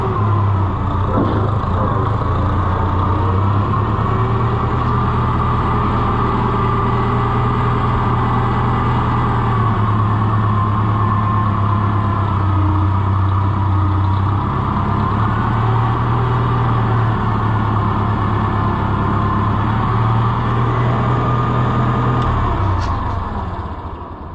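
A vintage Massey Ferguson 50 tractor engine runs steadily throughout with a low, rough, continuous rumble, close and loud, with no talking.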